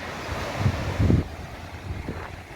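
Sea waves and open wind at Mahim Fort, with soft low surf surges and gusty wind buffeting the microphone, fairly faint and with no voices.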